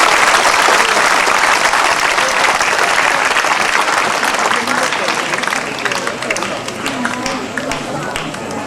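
Sustained applause from a large crowd, dense and steady clapping that fills the whole stretch, tapering slightly toward the end.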